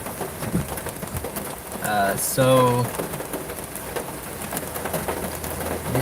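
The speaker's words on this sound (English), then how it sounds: "The rain's getting heavy." Heavy rain drums on a car parked while waiting for an emissions inspection at a motor vehicle commission, a steady close hiss throughout with a brief voice and bird-like tones near the middle.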